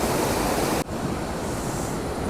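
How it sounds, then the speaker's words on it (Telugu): Floodwater from heavy rain surges forcefully through a forest at night, a loud, dense roar that dips briefly and then continues steadily at close range, with no talking. "చాలా ఫోర్స్గా వస్తుంది వాటర్."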